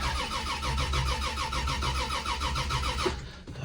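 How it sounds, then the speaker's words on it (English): A carbureted Belvedere car engine cranks over on a cold, snowy start, with the starter's rhythmic, steady churning close by for about three seconds before it cuts off into quiet. "with just a little bit of spinning, the carburetor will fill up and hopefully it'll just take off"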